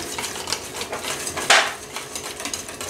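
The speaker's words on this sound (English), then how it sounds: "the two cups of pureed pumpkin I'm just gonna mix that to make sure it's nicely combined" A spoon stirs two cups of pureed pumpkin in a bowl, giving soft repeated scraping and tapping strokes with one sharper clink partway through.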